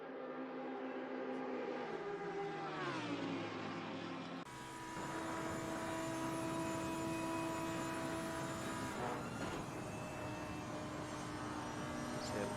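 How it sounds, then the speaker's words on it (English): Sim race cars in Assetto Corsa Competizione, a BMW and a Lamborghini among them, in a GT sprint race at Paul Ricard. Several engines drone steadily with shifting pitch, and the tone changes sharply partway through. "And he's just trying to chase down the BMW of Walter."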